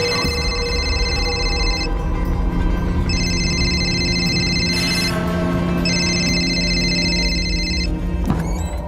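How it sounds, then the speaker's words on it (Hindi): An unanswered phone call keeps ringing in three repeated bursts separated by short pauses, over a steady low hum, in a Mumbai crime drama scene. "रिंग जा रही है, कोई पिक नहीं कर रहा है सर"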